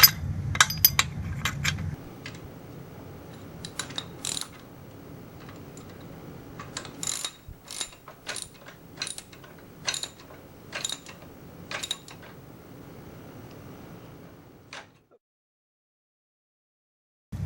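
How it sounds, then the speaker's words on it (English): Wrench fastening the blade onto a gas lawn edger: a series of sharp metallic clicks and clanks, irregular and close, over a low hum, stopping into silence near the end. "let me get my wrenches back and crank this thing on here"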